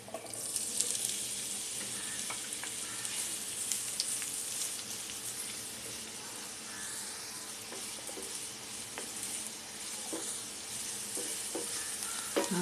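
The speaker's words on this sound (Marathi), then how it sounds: "तेल तापलेलं आहे 4 चमचे. कांदा खरपूस भाजून घेते." Onion frying in about four spoons of hot oil over full flame for a Malvani-style chutney, a steady bright sizzle throughout with occasional soft stirring clicks, close and alone.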